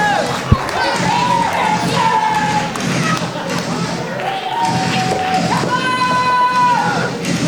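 Wrestling arena crowd at a championship match, a dense, loud roar with rising shouts and whistles and a single sharp thud near the start, heard under continuous commentary.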